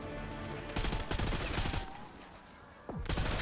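Gunfire in a zombie outbreak video game sounds as a rapid burst of loud, close shots, then a pause and another sharp blast at the end.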